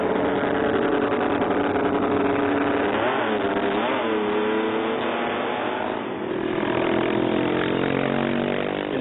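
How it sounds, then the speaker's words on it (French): A high-revving 500 cc V8 racing motorcycle engine roars continuously and loudly, with pitch sweeping up and down as the throttle is worked, close by. "dans 500 cm3, elle concentre 8 cylindres en V"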